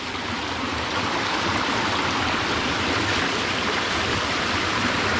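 Stream of water running down the middle of a scenic spot among tea, cinnamon and rubber land near a waterfall, a steady, full rushing wash that stays constant and close with no voices.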